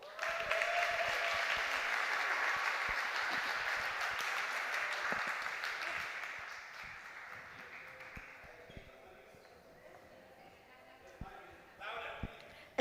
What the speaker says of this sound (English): Can we just give him a big Standard Bank round of applause?